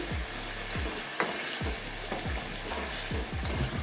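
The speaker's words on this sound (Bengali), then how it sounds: "আমি এখানে হালকা একটু জল দিয়ে দিলাম, আর একটু দিয়ে দিচ্ছি" Eggplant and egg omelette curry sizzling in a pan as a little water goes in, steady crackling fry with repeated soft stirring scrapes, moderately quiet and close.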